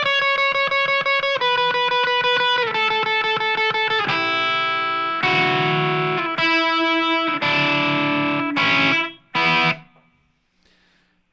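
A distorted electric guitar plays a melodic solo, sustained, bending notes, loud and close, ending with a few short stabs and a fade.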